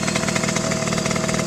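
A dirt bike engine runs loud and close with a steady, buzzing drone and no letup.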